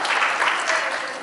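Applause from an audience at a Korean church theology forum, a dense steady patter of many hands clapping for just over a second, moderately loud and continuous with no break.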